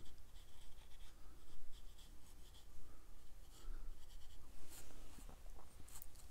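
A tool scraping paint across watercolor card to add rocks in a winter landscape, a close, steady scratchy rasping that comes in repeated strokes, alone with no talk.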